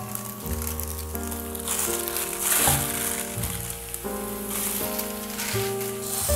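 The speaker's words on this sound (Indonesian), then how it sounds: "ini kita masak dulu ayamnya sebentar di antara bawang-bawangannya" Chicken frying in a pan with garlic and shallots, a steady loud sizzle and crackle running throughout with background music, no talk.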